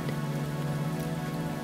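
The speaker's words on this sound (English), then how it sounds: "As you listen to the rain" Steady rain falls on a surface, a dense, even patter with a low continuous hiss and no break, filling the space with no voices.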